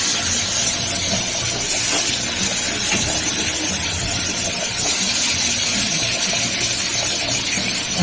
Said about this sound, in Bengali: এই যে মাছগুলো হালকা করে ভেজে নেবে।